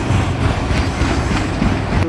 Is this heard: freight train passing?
yes